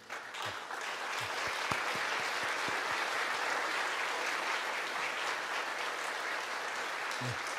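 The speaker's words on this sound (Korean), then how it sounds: "세 분 잠깐 일어나시면 우리가 박수로 환영하면 좋겠습니다" At a joint Korean church worship service for peace and reunification, the congregation welcomes three guests with sustained, even applause from a large gathering, moderately distant, after a few scattered early claps.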